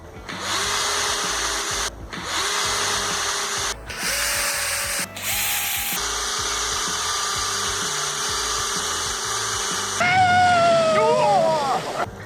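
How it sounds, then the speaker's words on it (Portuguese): A cordless drill bores holes in wooden slats for a DIY adjustable dog pen, whining in several long, loud runs separated by short pauses, ending with a squealing, grinding stretch. "vamos furar aqui também e terminar de furar o resto"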